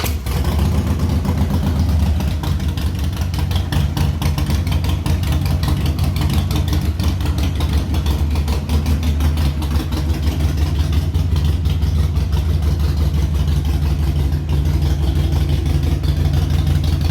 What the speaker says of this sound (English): I'll give it a little cold start fire up here.